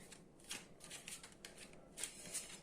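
Tarot cards shuffle in quick, close riffling bursts, several soft papery flutters in a row, quiet and without talk.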